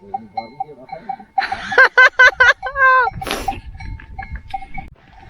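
Several sheep bleat in quick succession close by on a mountain, with small bells clinking faintly and scattered rustling around them.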